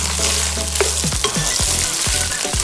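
Ground beef sizzles in a hot pan with garlic and onion, a steady close frying crackle broken by repeated scraping stirs, with no talking.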